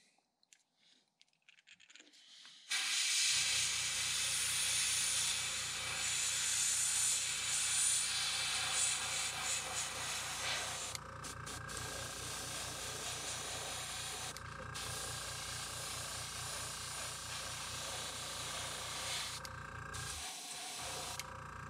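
An airbrush or spray gun applies paint to a custom crankbait fishing lure, giving a steady, close hiss that runs almost continuously with a low compressor-like hum beneath and a few brief breaks near the end.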